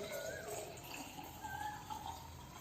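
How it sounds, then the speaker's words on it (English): Water pours into an empty glass jar in a continuous, fairly faint splashing trickle, with no voices heard. "I am going to pour some water in it."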